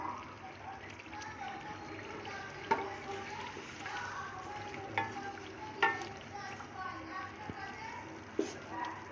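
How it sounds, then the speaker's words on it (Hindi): Spice masala with potatoes frying in a pan for chana pulao, a soft continuous sizzle with occasional sharp stirring clatters, steady under quiet background talk. "मसाले से बहुत ही प्यारी खुशबू आ रही है और मसाला अच्छी तरीके से भून भी चुका है"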